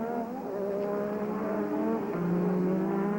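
Ayrton Senna's Formula 1 race car at the 1986 Canadian Grand Prix roars past with a high, sustained engine whine that shifts pitch as it passes, loud and continuous.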